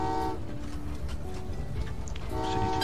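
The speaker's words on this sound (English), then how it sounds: "The first train is going to go down there." Trains running in the rail-building game Train Valley 2, with a sustained horn-like toot at the start and again near the end over a steady rumble of rolling carriages, fairly loud and with no talk.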